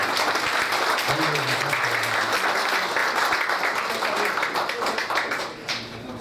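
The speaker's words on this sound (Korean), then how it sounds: "우리 손한 회장님 큰 박수로 한번 다시 한번" Loud, continuous applause from the audience at a Korean association general assembly in Atlanta, with crisp individual claps and a faint voice underneath, tapering slightly at the end.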